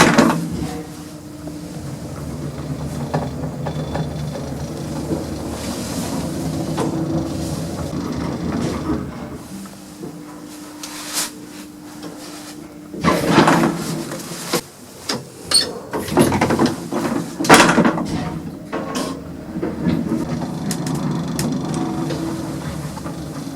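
An old lift with inner doors runs and its doors slide and clatter open and shut, with a steady mechanical hum followed by a burst of louder knocks and rattles near the end.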